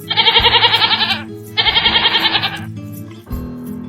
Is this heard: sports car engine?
no